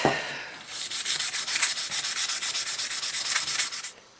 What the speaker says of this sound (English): So you can sand brass easily with sandpaper, and it polishes up easily on a felt wheel.